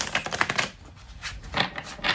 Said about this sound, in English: I am going to shuffle this.